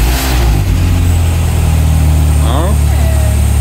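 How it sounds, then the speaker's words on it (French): A Peugeot 205 RC engine runs at a steady idle after starting, a loud continuous low rumble with a brief rev-like rise near the end, while people talk nearby. "voulait voir la 205 démarrer de ses propres yeux"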